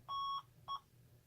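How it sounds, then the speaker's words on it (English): Two electronic beeps from a Honeywell 6272CSV security keypad audio test, a longer tone then a shorter one, high-pitched and clean against a faint hum. "And you heard the beeping"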